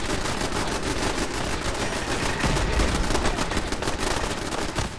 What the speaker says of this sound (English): Looks like Piper has decided to shoot at the pile of corpses.